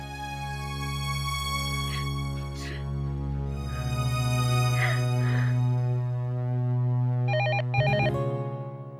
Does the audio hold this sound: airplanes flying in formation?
no